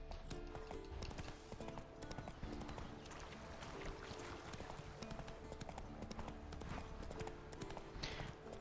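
Roach the horse from The Witcher 3 trotting in the game, giving a steady rhythmic clip-clop of hooves under continuous game ambience and music.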